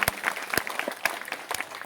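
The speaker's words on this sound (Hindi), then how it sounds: "आप सब एक बार जोरदार अपने लिए तालियां बजाइए" Audience at a political speech in Kasba, Bihar, claps for a new MLA's celebration of an election win, with sharp bursts of hand-clapping spread over a couple of seconds at a moderate distance.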